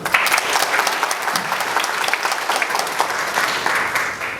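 An audience at an architecture firm's redevelopment design presentation bursts into sustained, dense applause for about four seconds, steady and fairly close, with no talking over it.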